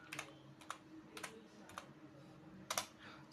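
Quiet clicking keystrokes on a computer keyboard as a short file name is typed, arriving in small uneven bursts with brief pauses between them, close and alone with no talk.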